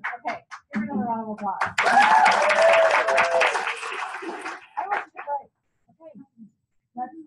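A short burst of applause from people at a meeting, a few seconds of clapping with voices talking before and after it and a dog barking briefly nearby.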